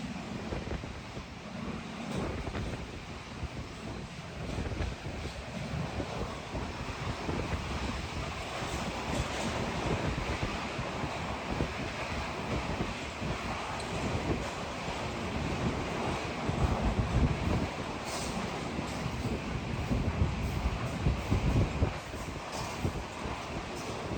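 Steady, roaring cold wind rushes continuously through a tunnel with a low rumble underneath, loud and close, buffeting throughout without pause.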